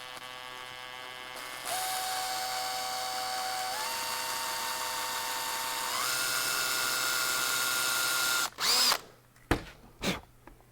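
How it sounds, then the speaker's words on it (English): A power drill with a brad point bit whines steadily for several seconds, its pitch stepping up as it speeds, then stops with a few clunks and knocks. "Try and really hold this drill."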